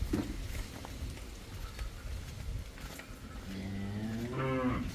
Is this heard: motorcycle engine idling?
no